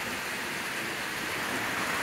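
Rain and hail fall outside an open window in Capitan, New Mexico, a dense, even hiss of pelting precipitation that stays constant throughout with no voices.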